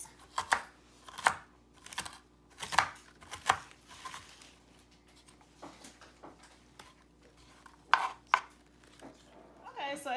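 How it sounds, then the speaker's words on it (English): A knife chopping celery on a cutting board, sharp irregular knocks in quick bursts with short pauses between, close and clear, no voices. "I have finished chopping up my celery, as you see right here."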